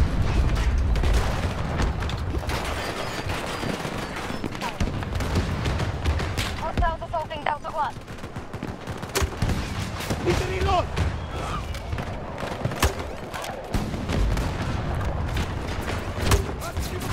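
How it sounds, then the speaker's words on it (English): A compact grenade-launcher-like weapon fires in the Battlefield 2042 video game, with repeated booming shots and bursts of gunfire across a busy battle soundscape while someone talks over it. "It is literally like a little grenade launcher"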